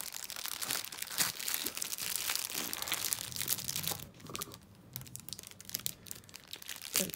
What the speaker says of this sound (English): with all the rustling.